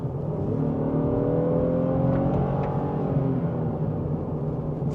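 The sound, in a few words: 2026 Honda Passport TrailSport V6 accelerating from 40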